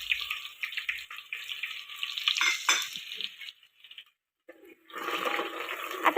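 Finely chopped onion hitting hot oil seasoned with cumin and mustard seeds, a bright hissing sizzle that drops away briefly and then surges back, close and steady.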